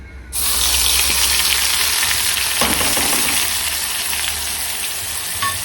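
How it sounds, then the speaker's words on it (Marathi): Onion chutney hits hot oil for tempering, bursting into a sudden loud, dense sizzle that holds steady and only slightly eases by the end, with no speech. "फक्त तेलामध्ये चटणीला फोडणी देणार आहे"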